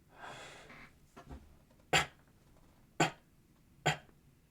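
A small cough after a deep breath, made while demonstrating breathing for singing: a soft breathy exhale, then three short sharp coughs spaced about a second apart, close to the listener, with no talking.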